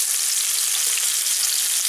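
Pork fillets sear in a Dutch oven at an outdoor barbecue, a loud, dense, continuous sizzle of frying meat heard close up and alone.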